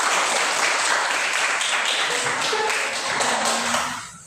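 Students and parents in an Indonesian classroom clap together after a group presents its discussion results, a dense, steady burst of applause that fades out near the end.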